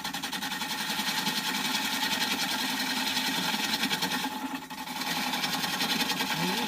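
A lathe hums and whirs as a bowl gouge cuts into spalted wood, giving a steady buzzing drone with a rough scraping texture. The drone dips briefly partway through, then carries on.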